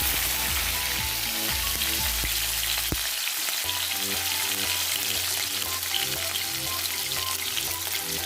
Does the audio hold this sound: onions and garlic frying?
yes